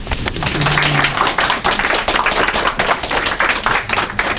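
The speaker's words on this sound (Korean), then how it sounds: "박수" An audience at a mentoring and leadership academy talk claps steadily for several seconds, a dense, close patter of hands with no voices over it.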